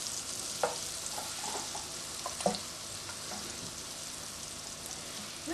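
Pork medallions frying in a pan, a steady close sizzle with occasional pops and clinks, no talking.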